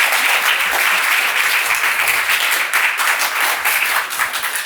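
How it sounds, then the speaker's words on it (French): Loud, steady applause from a lecture audience at a French experimental physics conference, dense clapping filling the whole span without a break and thinning slightly near the end. "On peut évidemment l'applaudir bien fort"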